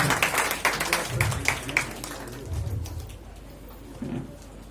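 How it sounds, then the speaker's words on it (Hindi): Audience applause at a music event in Jabalpur, loud clapping in the first couple of seconds that fades away, with pigeon cooing audible underneath. "उनके लिए जोरदार ताली अन्नू भैया के लिए"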